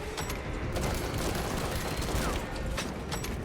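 Pistol reloading in a Space Marine video game, the mechanical clicks and ratchet of the magazine swap buried in a dense, continuous wash of game gunfire and explosions.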